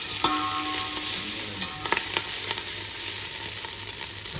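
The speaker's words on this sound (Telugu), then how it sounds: "కొద్దిగా వేగిన తర్వాత మనం అల్లం వెల్లుల్లి పేస్ట్ వేసుకుంటాం" Onions and ginger-garlic paste fry in hot oil for chicken mandi, a steady close sizzle with occasional stirring scrapes and a low hum beneath, no voices.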